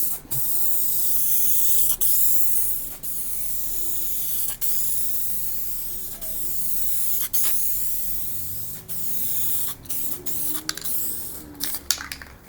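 A spray gun lays down one wet coat of 2K primer ahead of base coat. A steady close-up hiss runs almost without a break, cut by brief trigger releases, with a few quicker on-off bursts near the end.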